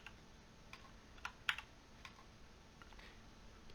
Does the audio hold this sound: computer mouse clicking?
yes